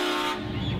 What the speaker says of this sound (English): Oh! He's got a train horn too!